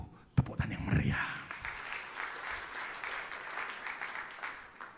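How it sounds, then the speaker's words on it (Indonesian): A church congregation bursts into applause after a sharp onset, then keeps up steady, moderately loud clapping that fills the rest of the moment. "Tepuk tangan yang meriah."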